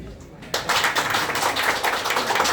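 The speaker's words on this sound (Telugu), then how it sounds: "ఇంకా చాలా చప్పట్లు." Audience applause breaks out suddenly at a celebration, a dense wash of many hands clapping at close range that starts abruptly and holds steady for a couple of seconds.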